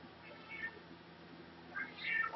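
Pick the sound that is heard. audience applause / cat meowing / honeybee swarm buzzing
cat meowing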